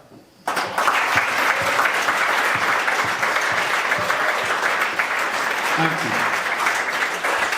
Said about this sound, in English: please join me in a round of applause for these guys who changed my life